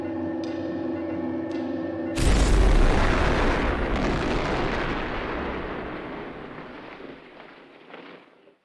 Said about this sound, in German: wer hat die Challenger zur Explosion gebracht, bevor sie auf MZ4 herabstürzen konnte?